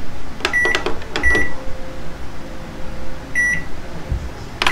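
An analog microwave oven hums steadily on its defrost setting, with a constant mid-level drone and several sharp electronic beeps scattered over the run, close and with no voices.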